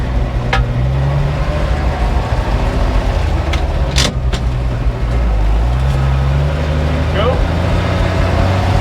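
A 68-year-old REO dump truck's engine runs steadily up close, its low rumble shifting pitch as gears change and the truck pulls off slowly, with a brief spoken word and a few clunks over it.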